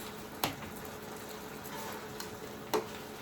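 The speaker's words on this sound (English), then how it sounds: "Let that fry off." Bacon sizzles quietly in a pan as water cooks off, giving a soft, steady crackle broken by two sharp utensil clinks.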